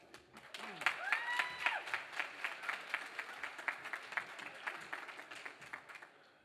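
Audience applause at a public-sector corporate governance awards ceremony comes as a dense, fairly soft patter of many hands clapping with rhythmic accents, plus a faint whoop near the start, fading out after about six seconds.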